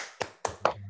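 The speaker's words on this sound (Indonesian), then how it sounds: "Tepuk generasi Islam." Children doing a rhythmic Islamic generation clap, four sharp, separate claps in an even beat, close and clear with no talk.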